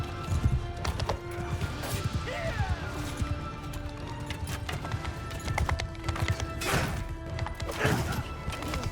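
Galloping horse hooves thud rhythmically in a Mount & Blade II: Bannerlord battle, mixed with clashing combat hits and game noise, fairly busy and mid-distance.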